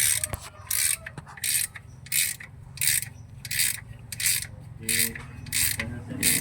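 A ratchet wrench turns a bolt during an oil change on a Honda Jazz RS GE8, producing a regular series of about ten bright, raspy clicking bursts with short pauses between them.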